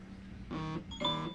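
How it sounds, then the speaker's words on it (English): A phone gives two short electronic beeps, each about a quarter second, close by and moderately loud, heard during quiet cold-process soap making. "Yeah, there's my phone."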